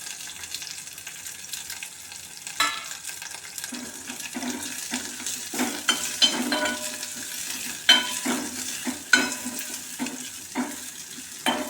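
Garlic cloves and curry leaves crackle in oil in a pan for a jackfruit sambar, a soft steady sizzle punctuated by repeated spoon scrapes and stirring taps.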